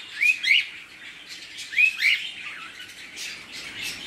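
A pet bird gives two short bursts of chirps and squawks, close and fairly loud indoors, with quieter chatter between them.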